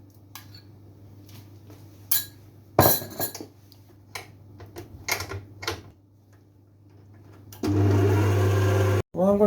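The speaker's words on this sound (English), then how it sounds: "I'm adding the 2 cups of fruit to the mixture," Dried fruit tumbles into vegan fruit cake batter in a bowl, with scattered clinks and knocks of a spoon against the bowl, then a steady loud whirring burst near the end, over a low background hum.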